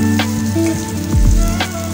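Onion and garlic frying in hot oil in a wok for dried fish bhuna, a loud close sizzle with intermittent clanks and scrapes of stirring, with no talk.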